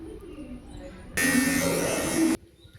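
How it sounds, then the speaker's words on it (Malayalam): A handheld grinding machine cuts the angled sides of a handmade knife blade, a loud, harsh whine that starts abruptly, holds for about a second, then stops, with faint background sound before and after. "ഇങ്ങനെ ചെരിച്ച് നമ്മളൊന്ന് ഈ മെഷീൻ വെച്ച് ഒന്ന് ഉരച്ച് മുറിച്ച് വിട്ടാം."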